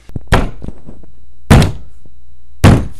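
Three heavy, hollow knocks on a door come at spaced intervals, loud and close, each a single dull thud with a little rattle after it and no talking.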